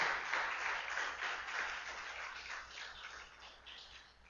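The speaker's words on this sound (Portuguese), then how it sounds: "Dá uma salva de palmas a Deus." A church congregation applauding God, a soft wash of clapping heard faintly and somewhat muffled, fading gradually over a few seconds.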